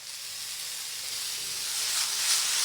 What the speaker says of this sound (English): So I'm frying up my bread and sausage.